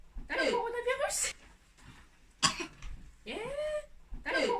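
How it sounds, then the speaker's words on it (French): A child coughing repeatedly, several harsh raspy bursts spaced about a second apart, close and fairly loud, with throaty vocal sounds between them. "Pourquoi tu tousses?"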